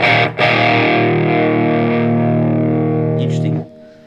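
An electric guitar is palm-muted through a Boss FDR-1 Deluxe Reverb pedal, with a short chugged attack and then a loud sustained distorted tone washed in reverb that cuts off abruptly near the end.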